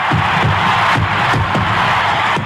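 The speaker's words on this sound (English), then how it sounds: "A sellout crowd is cheering Henry Aaron, the home run king of all time." A sellout baseball stadium crowd roars for a record-setting home run as the hitter rounds third, with fireworks going off; a dense, loud, continuous wash of cheering runs without a break.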